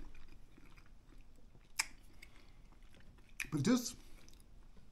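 Crunchy chewing of spaghetti with canned mackerel, tomatoes and onions, a few quiet bites near the mic with one louder crunchy burst near the end, alongside a little talk.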